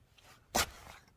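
A cat gives one short, sharp sneeze, a brief loud burst standing out against a quiet room.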